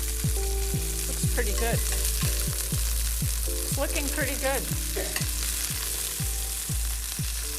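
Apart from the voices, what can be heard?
steak sizzling in a stainless steel pan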